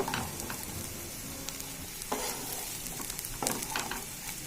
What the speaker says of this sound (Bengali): আদা বাটা দিয়ে আবার কিছুক্ষণ নেড়ে চেড়ে নেব।